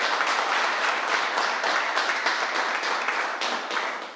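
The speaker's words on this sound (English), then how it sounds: "it's not allowable to applaud" Sustained applause from the public gallery in a parliament chamber, many hands clapping densely and evenly throughout, then thinning slightly near the end.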